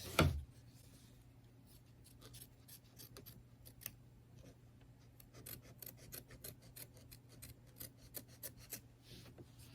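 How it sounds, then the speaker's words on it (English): Small hoop scissors snipping fabric repeatedly at close range, quick light cuts in irregular bursts, faint and crisp against a quiet background. "I'm going to use the Hoop Scissors Mini, and I'm going to trim close to the stitching"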